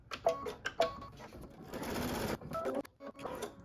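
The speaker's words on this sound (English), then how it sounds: "So it says stitch the trimming placement line. So we're just going to stitch a line." A sewing machine stitches a trimming placement line on a quilt block, running in short bursts with a steady whir in the middle, close and moderately loud, with no talk.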